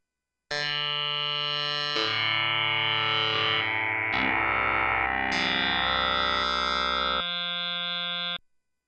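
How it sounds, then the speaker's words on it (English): A Technos Acxel additive resynthesizer plays dynamic FM synthesis tones: a sequence of sustained, bright, buzzy, harmonically rich notes with shifting timbre and pitch, loud and clean, with no talking. "Or we can dial in dynamic FM shapes like this."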